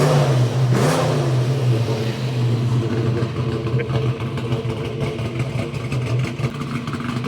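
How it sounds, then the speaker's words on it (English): A 1967 Ford Mustang fastback V8 with a lumpy camshaft idles loudly and steadily with the idle raised, a brief blip near the start, running alone close up. "you can hear how I turn the idle up a little bit"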